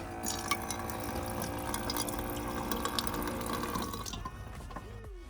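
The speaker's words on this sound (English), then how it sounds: "So that's just draining into the gray water tank" Water draining from a deep square sink in a Sprinter van kitchen into the gray water tank, a steady close trickling and gurgling flow that fades out near the end, with no talking.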